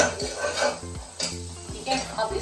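A spoon stirs chole masala in a metal pot, scraping and clinking in uneven strokes with a faint sizzle underneath, close and moderately loud, with no talk.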